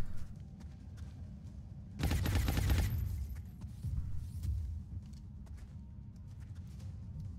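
A short, loud burst of rapid gunfire aimed at a mech in XCOM Long War, about a second long in the middle of quieter game ambience, followed by softer thuds.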